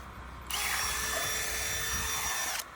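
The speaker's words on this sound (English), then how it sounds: "drill a hole in the ice" A power drill with a 3/4 inch bit whines steadily for about two seconds, starting and stopping abruptly, boring a hole through ice on the Erie Canal.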